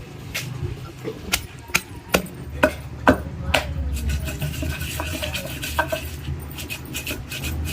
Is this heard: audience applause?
no